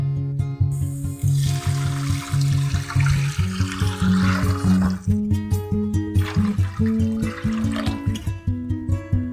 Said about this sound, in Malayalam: ഇതിൽ ഒന്നര പാത്ര വെള്ളം നമ്മൾ ഇതിലേക്ക് ഒഴിച്ചു കൊടുക്കും